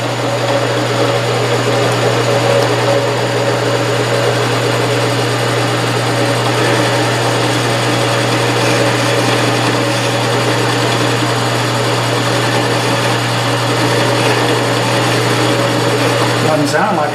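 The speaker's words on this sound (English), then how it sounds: "I think I'm taking 1/2 thousandths on this cut." A milling machine taking a very light reverse boring cut runs with a loud, steady motor hum and whine, unchanging for the whole stretch.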